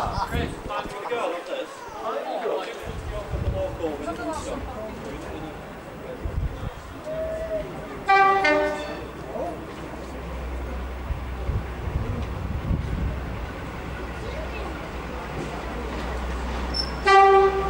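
A diesel train rolls past with a deep rumble at the East Lancashire Railway diesel gala while people talk, and a train horn sounds in short blasts twice, close and loud.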